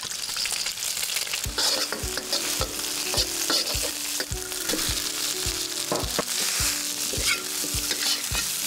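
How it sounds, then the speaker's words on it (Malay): Freshly cooked, still-warm rice stir-fried in a hot wok for nasi goreng kampung, with a steady sizzle and regular scraping spatula strokes, roughly two per second, close up and fairly loud. "goreng kali kedua guna nasi yang masak hari ni"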